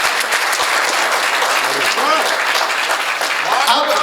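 Loud, dense applause fills the hall from an audience at a Hindi comedy poetry show, with voices murmuring underneath throughout.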